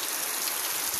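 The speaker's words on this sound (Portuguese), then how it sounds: "Tá uma chuvinha mansa aqui" Gentle light rain falls outdoors on a rural farm, a steady soft hiss of drops with no distinct rhythm, even and close throughout.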